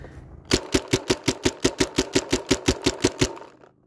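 A Tippmann A5 paintball marker fires about fifteen rounds in rapid, evenly spaced succession, each shot a sharp, loud pop close by, forming a quick mechanical rattle that stops abruptly.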